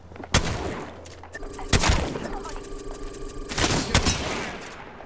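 Video game gunfire with grenade throws, several sharp loud shots and bursts at intervals over a steady busy game soundscape.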